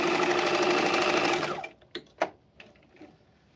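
A sewing machine runs steadily and close for about a second and a half, its rapid needle stitching loud and even, then stops, followed by a few soft mechanical clicks and taps.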